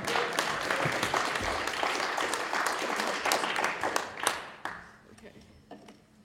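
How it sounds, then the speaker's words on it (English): A tech conference audience gives a round of applause before a talk on serialization formats in Go, with dense, lively clapping that thins out and fades after about four seconds, leaving a few scattered claps and room noise. "Round of applause."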